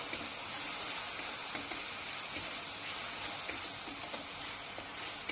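Fish masala for a Bengali fish curry with Malabar spinach and potato sizzles and hisses steadily in a pan after a splash of water, with faint clinks and stirring taps scattered through the soft, continuous frying.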